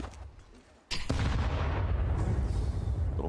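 A frag grenade goes off in Counter-Strike, a sudden loud blast after a quieter moment, followed by a sustained rumbling roar of game noise.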